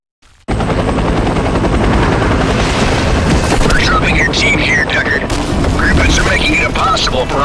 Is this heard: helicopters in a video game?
yes